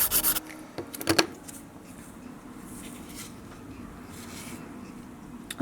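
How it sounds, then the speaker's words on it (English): A nail file rubbed back and forth across sculpted artificial nails while shaping them, giving a close, steady dry rasping that runs nearly the whole stretch after a few sharper scrapes at the start. "I'm going to grab the file and I'm going to run it through just like this."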